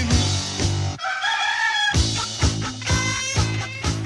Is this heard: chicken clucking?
yes